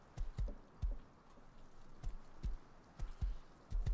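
Horse hooves clip-clop in the video game Rust, in an uneven walking rhythm of roughly a dozen close, fairly loud hoof thuds over a faint background, with no talking.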